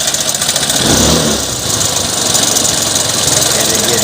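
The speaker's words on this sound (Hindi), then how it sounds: "अब ये गाड़ी को मैं स्टार्ट करने जा रहा हूँ" An old-model Suzuki car engine turns over and runs with a rough, steady rumble and a faint knocking tick, loud and close throughout with a brief surge near the start.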